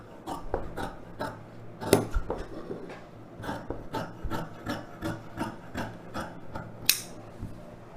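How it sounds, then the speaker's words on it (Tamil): Scissors cutting through chudidhar lining fabric, giving a series of soft, irregular rasping snips and rubbing sounds up close, with a few sharper clicks and no voices. "இப்போ இது அப்படியே கட் பண்ணி எடுத்துக்கலாம்."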